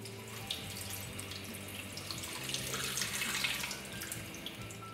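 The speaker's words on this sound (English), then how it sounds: "take your coffee over to the sink, run this part of the pot under some cold water" Cold water runs steadily from a tap, splashing onto a metal moka pot in a continuous hiss.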